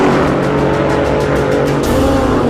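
Supercars, a McLaren and a Lamborghini, launching hard in a drag race, a loud continuous engine roar close by that holds steady, then a brighter surge near the end.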